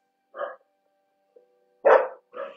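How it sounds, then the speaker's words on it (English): Dogs bark in short separate bursts, three sharp barks spaced apart, moderately close, in an otherwise quiet room during a restorative yoga session. "I'm so sorry about these dogs."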